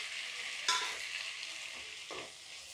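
Tomatoes tipped into a pan of frying onions for chicken manchurian, a steady broadband sizzle with a sharp burst as they land and a brief scrape of stirring later, close and alone.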